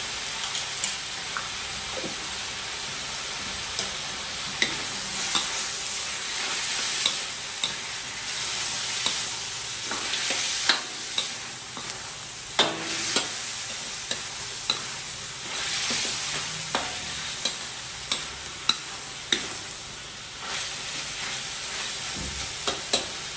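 Steady stirring and sizzling of shrimp and chicken frying in a pan for ginataang bulanglang, with scraping strokes and small clicks of a utensil, no talking.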